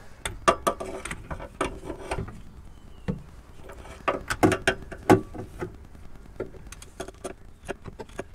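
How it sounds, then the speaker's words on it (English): A spanner tightens a bolt on a Mk5 R32 during a Haldex fluid and filter service, giving a sparse series of sharp metallic clicks and ratcheting ticks, close and fairly quiet, with short pauses between them. "Just nip this up a wee bit with my spanner."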